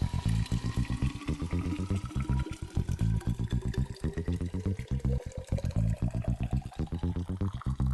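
Boiling water being poured into a thermos for mate, a steady close liquid stream with a rising pitch as the vessel fills, heard alone for several seconds.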